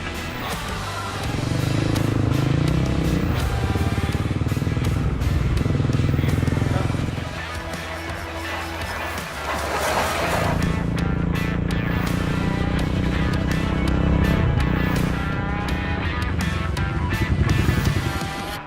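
A motorcycle rides along the Ho Chi Minh Trail toward Laos, its engine droning loud and close with rising and falling revs, easing off midway before picking up again, with wind buffeting and a voice speaking over it.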